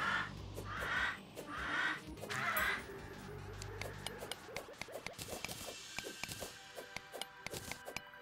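A bird in the video game Terraria gives a few loud harsh cawing calls in the first seconds, followed by scattered clicks and pops of game sounds with a faint steady tone.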